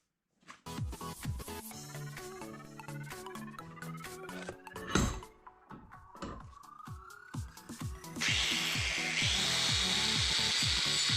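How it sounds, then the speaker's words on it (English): A motorized pedal bike engine mount is ground and bored out with a power tool, with a series of metallic knocks and rising whines, then a loud steady grinding hiss in the final seconds, close and without talk. "grind out the mount so the motor will try and sit lower"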